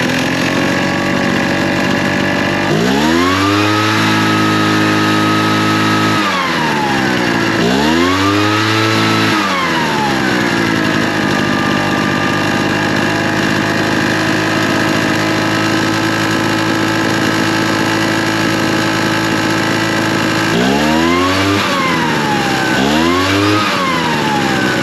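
A small two-stroke engine, after a half-turn carburetor adjustment, revs up and back down in two sharp bursts early on, idles steadily at a loud, close buzz, then gives two more quick revs near the end.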